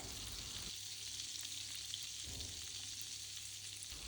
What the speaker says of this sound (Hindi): ऑयल डालने के बाद यहाँ पर डालेंगे बटर।